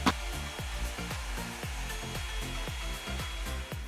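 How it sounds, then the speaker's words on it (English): Revlon One-Step hair dryer volumizer running on its high setting, a steady close whoosh of blowing air with a rhythmic thumping pulse as the brush is worked through hair. "Those are my tips and tricks when using this Revlon hair dryer and volumizer."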